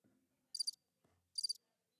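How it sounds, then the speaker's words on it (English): Two short bursts of cricket chirping, each a quick trill, separated by near silence in an otherwise very quiet, faint scene. "I need some crickets."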